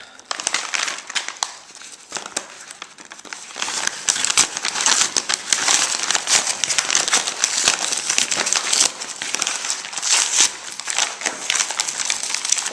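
A padded plain white jiffy bag is torn and opened by hand, producing dense crinkling and rustling with sharp crackles that grow louder and busier after the first few seconds and continue throughout.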